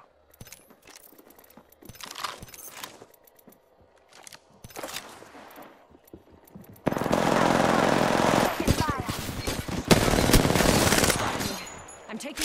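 Gunfire in Apex Legends crackles in scattered shots under talk, then breaks into loud, sustained machine-gun bursts that dominate the second half before easing.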